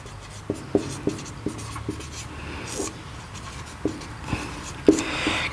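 Chalk or marker writing on a board during a Hindi chemistry lesson, with irregular short taps and scratchy strokes at moderate level, close by, with no talking.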